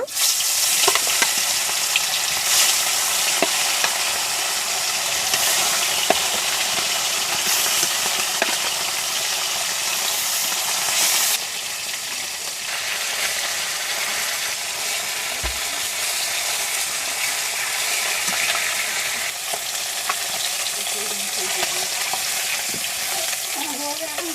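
Tilapia pieces rubbed with salt and turmeric frying in oil in a wok over a wood fire, a loud, steady hissing sizzle that persists throughout, with occasional clicks and scrapes.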